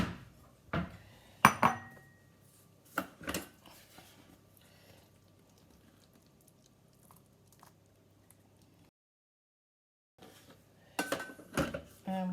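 Sautéed garlic and onions, cooked in oil in a Thermomix TM6 for chicken and spinach lasagne, being scraped into a bowl: a few sharp clinks and scrapes of utensil on metal and bowl, close by, with quiet gaps between them.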